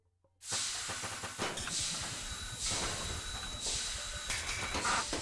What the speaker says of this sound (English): My Stanley steam lift. It makes traversing these cumbersome stairs a breeze.